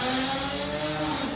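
A Dodge Charger R/T with aftermarket exhaust tips pulls away, its engine note rising slightly and then steadying, heard from a short distance, brief with no talk.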